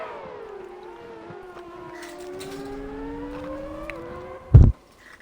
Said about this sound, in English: just listen to the car coming to the corner